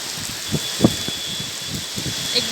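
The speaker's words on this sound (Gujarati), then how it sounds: "એકદમ ફાસ્ટ વરસાદ આવે છે" Heavy monsoon rain heard from inside a parked car in strong wind, a steady hissing wash with soft scattered thumps of drops on the roof and glass, continuous and even.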